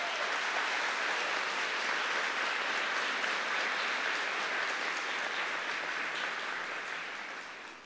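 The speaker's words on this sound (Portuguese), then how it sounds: "Pode aplaudir" An audience at a Catholic talk applauds in a steady, sustained wash of many hands clapping, even and continuous before tapering off at the very end.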